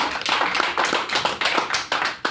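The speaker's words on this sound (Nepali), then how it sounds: "ल सबैजना एकचोटि हात ताली बजाउनुहोस् त जोरदारले" Audience clapping hands together at a lively stage show, a burst of dense, loud applause with overlapping claps lasting a couple of seconds.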